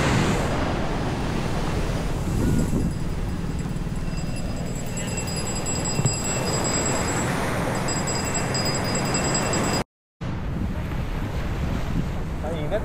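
Sea waves washing ashore at Capones Island beach in Zambales, a continuous loud surf roar mixed with strong wind buffeting the microphone, with a brief dropout near the end.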